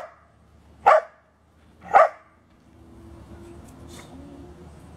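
A dog during a training session gives two sharp, loud barks about a second apart, followed by quieter ambient rumble and faint background noise.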